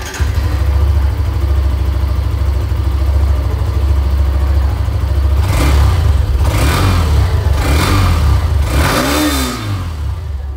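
A 125cc motorcycle engine idles with a steady, loud exhaust drone, then is revved in several sharp bursts that rise and fall, heard close and alone.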